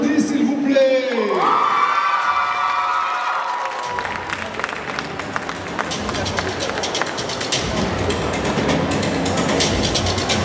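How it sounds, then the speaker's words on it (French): An audience at the Festimanga 2025 general costume contest cheers and applauds after a performance is introduced; a loud, dense crowd roar with shouting voices swells in and holds steady, following a brief stretch of speech. "qu'on applaudit s'il vous plaît."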